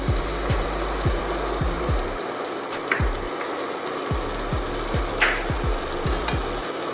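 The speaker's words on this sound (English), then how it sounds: "It's good that we're getting some sizzle going." A steady sizzle of butter melting in a pan hisses throughout, with a rhythmic series of low thumps and scraping clicks running beneath it.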